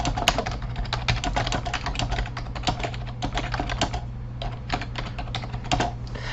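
Someone types an email message on a computer keyboard, giving a steady, close stream of quick clicking keystrokes with short pauses between bursts and no talking.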